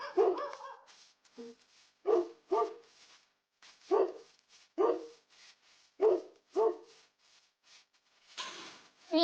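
A dog in the Minecraft video game gives a series of short yips and barks, about a dozen evenly spaced bursts over several seconds, close and clear against a quiet background.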